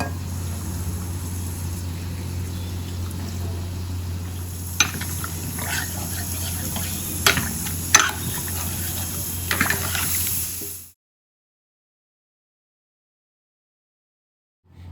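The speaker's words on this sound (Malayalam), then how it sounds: "ഇനി വെള്ളം ഒഴിക്കാം" Water poured into a pot of amla (Indian gooseberry) rasam makes a steady, noisy rush with a few sharp clinks. It stops abruptly partway through, leaving silence.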